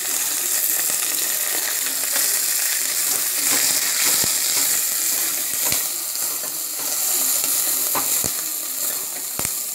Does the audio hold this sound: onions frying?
yes